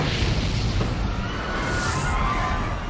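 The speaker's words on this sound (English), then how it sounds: "they heard a boom." A loud, sustained booming roar of an explosion aboard a plane taxiing on a runway, with rushing, crackling fire noise throughout, filling the whole stretch without voices.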